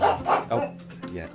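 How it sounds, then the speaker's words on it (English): A pet dog barks and yips in short, fairly close bursts while a person speaks briefly over it, at the end of a Pokémon Shining Pearl gaming stream. "So sorry for the barking."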